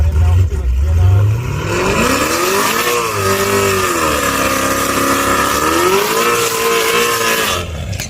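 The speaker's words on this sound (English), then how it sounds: "This car hooked while ago and didn't even want to shift." A drag racing car launching down a U.S. drag strip, a loud roaring engine climbing sharply in pitch, then holding a high wavering howl as it pulls away, staying close and dominant throughout.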